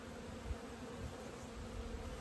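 Honey bees hum steadily around an opened 20-frame Layens hive during an October honey frame pull, a dense, continuous buzz with a few louder passes close to the microphone.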